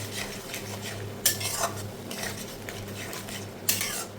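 Ground spice paste, prepared for fish, goes into a pan of fried onion and tomato, giving a steady low sizzle under scraping spoon strokes and a couple of sharp metallic clinks.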